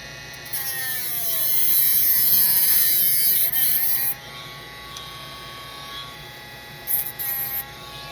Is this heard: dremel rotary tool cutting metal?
yes